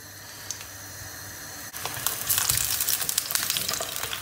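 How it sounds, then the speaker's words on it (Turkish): Eggplant pressed into a dry-bottomed pan with a little warm oil starts to sizzle, a soft hiss that jumps louder partway through and keeps crackling steadily close by. "Patlıcanı dokunduralım. Hafiften sesler gelmeye başladı."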